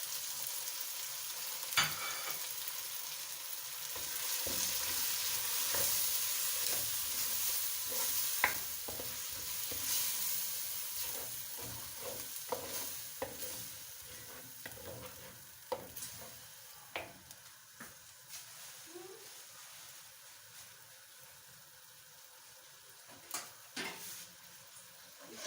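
Tomatoes and spices frying in a pan for a chicken and capsicum curry: a steady close sizzle runs throughout, with scattered sharp clicks and scrapes of stirring, and no talking.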